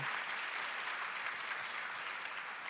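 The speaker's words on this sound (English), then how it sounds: "Can y'all just give them a round of applause?" Applause from an audience at an awards ceremony, even, continuous clapping heard fairly faint and distant, with no break across the short stretch.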